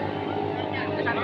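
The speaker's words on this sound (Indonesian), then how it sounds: "sudah terdengar suara mesin Panrider" Katinting longtail racing boat engines drone steadily at a boat race in Kalimantan, a continuous loud motor hum with a busy rough texture, a commentator talking over it.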